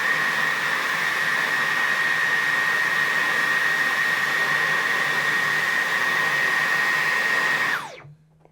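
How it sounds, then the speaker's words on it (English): A Dyson V12 cordless vacuum runs in boost mode, a steady loud whooshing whine with a high tone, then it winds down and cuts off near the end. "Here comes boost mode on the Dyson."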